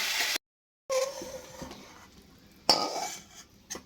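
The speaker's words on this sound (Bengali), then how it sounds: "আর একবার নাড়াচাড়া করে দিচ্ছি" Fried pumpkin is stirred in a pan with a utensil, producing scraping and clinking against the metal, with a brief gap and then a sharper knock partway through.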